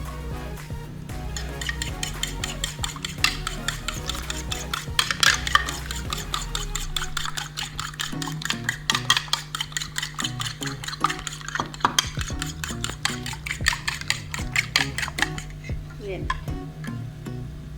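Beaten eggs, three of them, being slowly stirred into hot and sour soup in a pot, with a steady run of soft utensil scrapes and clinks against the pan over a low simmering hum.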